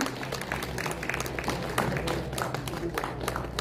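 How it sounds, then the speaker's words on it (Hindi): Applause from the audience at an inauguration event for a district self-employment center in Jaipur, a steady wash of clapping in a hall with low room hum underneath, continuing throughout. "तालियों से गड़गड़ाहट होनी चाहिए।"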